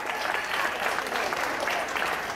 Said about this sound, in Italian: un applauso anche a Rachele.